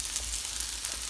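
Garlic, onion and ginger sauté in a pan for a vegetable pakbet, giving a steady, close hiss of frying oil with faint crackles and no talk.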